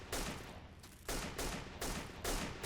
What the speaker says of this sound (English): It sounds like there's another sniper out there